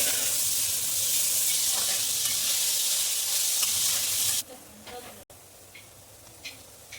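Two onions frying in a pan while cooking bhindi, with a loud, hissing sizzle that fades sharply to a softer crackle near the end.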